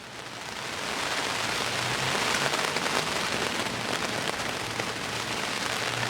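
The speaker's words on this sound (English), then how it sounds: "We've got a low front that's just moved in, lots of rain and strong winds as well" Heavy rain pours down steadily during a low-pressure front at a North Yorkshire carp fishing lake, a dense continuous hiss that swells slightly and holds, with no voices.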